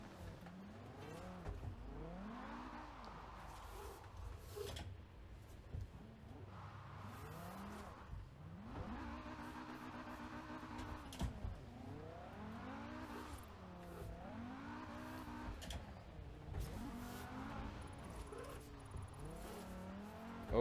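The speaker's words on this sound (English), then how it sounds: "We're swapping over to a drift car real quick, so I want to try out this drift zone." A rear-wheel-drive drift car in a racing simulator game, its engine revving up and down in repeated rising and falling sweeps with bursts of tire squeal, fairly quiet and steady throughout.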